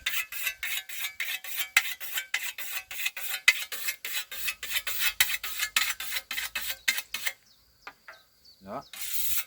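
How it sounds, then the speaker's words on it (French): A scythe blade is sharpened with repeated rasping strokes of a whetstone, steady and rhythmic for about seven seconds before stopping, followed by a brief high metallic ring. The setting is hand-mowing grass around a beehive. "allez, on va remettre un petit coup d'affûtage"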